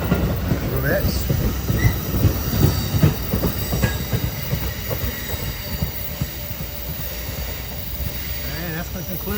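An Amtrak Crescent passenger train at the Greensboro, North Carolina station rolls past with a continuous rumble, rhythmic clickety-clack and faint wheel squeal. Voices murmur in the background.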